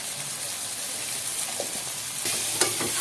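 Tomatoes frying with turmeric in a pan, a steady loud sizzle with faint stirring scrapes and a few clinks toward the end, close up and without talk.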